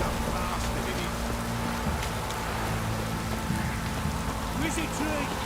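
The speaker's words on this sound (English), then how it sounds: "This downpour's a bastard" Steady rain drums on surfaces in The Witcher video game, a dense continuous hiss with faint tonal game sounds layered underneath.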